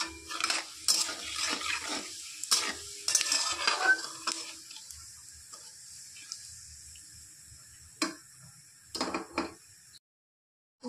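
Dry red chilli, a bay leaf and whole cumin frying in oil, a light crackle mixed with clinks of a utensil against the pan, fading to quiet near the end.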